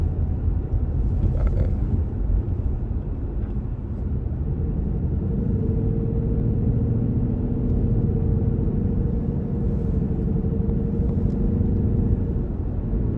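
Cars pass through an intersection at a traffic light, a continuous low road rumble with engine drone swelling and easing as vehicles move through, no talk over it.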